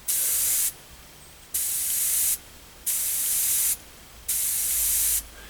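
Four evenly spaced bursts of spray hiss from a double-action airbrush, each under a second, with short quiet gaps between them.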